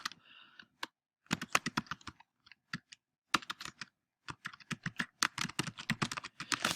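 Someone types on a computer keyboard, with bursts of crisp, close key clicks broken by short pauses and no voice.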